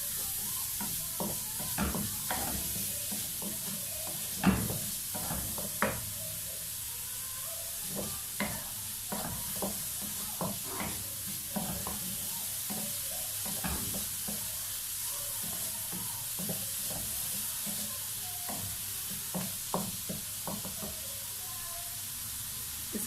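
Finely chopped onions fry in a pan for potato samosa filling, giving a steady soft sizzle punctuated by frequent sharp clicks and taps of stirring, moderately quiet and continuous throughout.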